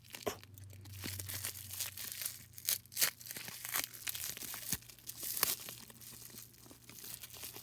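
Plastic packaging around an LPS toy is torn and crinkled open in quiet, close, irregular rips and crackles, with scattered sharper crunches throughout.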